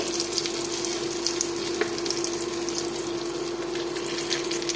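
Chicken shami kebabs fry in a pan of oil, giving an even, continuous hiss and crackle close by, with a low steady hum underneath.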